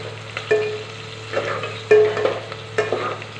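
Fish kulambu ingredients sizzle steadily in hot oil while a spoon stirs them in repeated scraping strokes, close and clear, with no talking.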